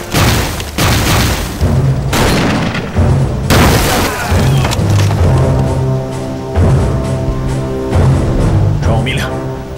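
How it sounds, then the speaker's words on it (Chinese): Artillery shells from a Japanese bombardment of Eighth Route Army positions in a Chinese anti-Japanese war film land in a run of loud, heavy booms, one every second or so, over a dense rumbling battle din. "李总，咱们这仗打得太窝囊了，连小日本的脸都没瞧见，被人大炮压得抬不起头来。"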